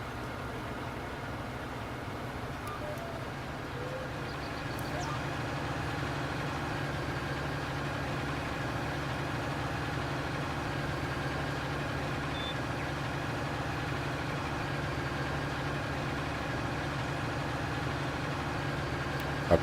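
A tractor engine in Farming Simulator 19 running at a steady low, droning pitch while plowing or working a field, constant and unbroken throughout.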